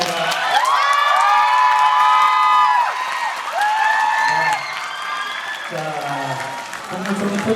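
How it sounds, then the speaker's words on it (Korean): A crowd at a Korean popular culture and arts awards ceremony claps loudly, with high shrill cheers and screams soaring over the applause in repeated waves. "자, 여러분 큰 박수로 자리로 모시겠습니다."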